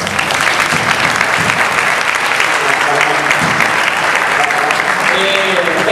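Loud, sustained audience applause fills a circus gala in Rosario, dense clapping from a large crowd continuing steadily throughout, with faint voices mixed in.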